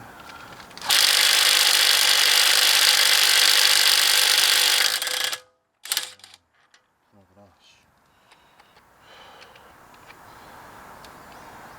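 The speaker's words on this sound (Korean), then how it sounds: "새로 구입한 20V 임팩으로 한번 풀어 보겠습니다" A 20V cordless impact wrench with a long extension bar loosens a bolt on a BMW F10 520d: one loud, sustained burst of about four seconds, then a few short rattling bursts and quieter handling noise.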